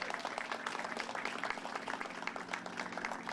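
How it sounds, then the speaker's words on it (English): Audience applause at a grand opening honoring a construction team, a dense steady wash of many hands clapping throughout, moderately loud and continuous with no talk over it. "Give them a big round of applause."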